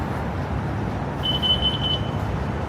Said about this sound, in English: Beep beep. Oh, something leaving this garage.